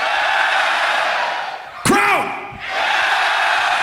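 Crowd at a Grand Beatbox Battle semi-final roars in a loud sustained cheer, briefly cut by a sharp burst and a falling whistle-like tone before the cheering swells back up.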